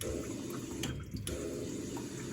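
Steady water streams into a top-loading washing machine during a slow fill, a continuous close splashing hiss like a running tap, brief and without voices.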